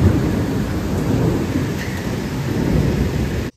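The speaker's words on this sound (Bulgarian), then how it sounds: "докато навън вали порой" Heavy rain pours steadily outside in a dense, even roar, with low rumbling thunder rolling beneath it throughout and no voices.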